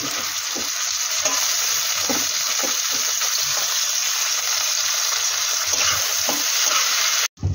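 Tomatoes tipped into browned onions for a red meat curry set up a loud, steady sizzle and hiss of frying that carries on without a break, with the occasional stir and scrape close by.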